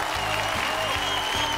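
A theatre audience at a televised comedy contest fills the room with continuous, even applause, dense and steady throughout with no speech on top.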